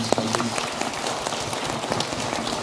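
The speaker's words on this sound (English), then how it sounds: "if I can ask for a round of applause for our guest speakers." Audience applause for guest speakers at a business summit panel session, a dense steady patter of many hands clapping with some talk mixed in.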